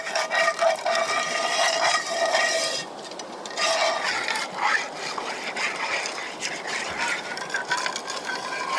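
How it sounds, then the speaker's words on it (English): Gravel from a creek is rubbed around inside a camp pan to scour it clean, making a steady, close gritty scraping and rasping that continues for several seconds with brief pauses, with no voice over it. "This is gravel, like that. And then you just rub it around in there."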